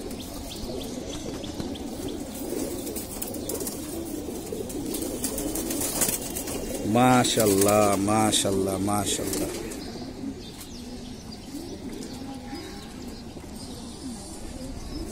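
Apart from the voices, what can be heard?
pigeon cooing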